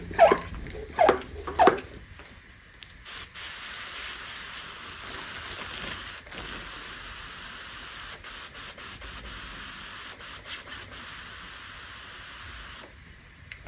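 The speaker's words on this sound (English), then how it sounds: "So we have a spray bottle over here." A handheld spray bottle mists water over a bonsai ficus, with a few sharp separate squirts at the start followed by a long steady hiss of spraying, heard close up with no talking.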